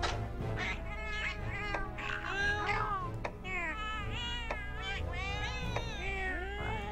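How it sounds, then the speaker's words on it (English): A customizable cat companion's voice in Monster Hunter 4 Ultimate, a series of close, loud, pitch-bending meows repeating one after another over a steady low game hum. "You can customize your cat voice."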